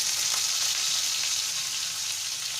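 Onion, garlic, ginger paste and green chilies sizzle steadily in a hot pan, a loud continuous hiss with no talking over it.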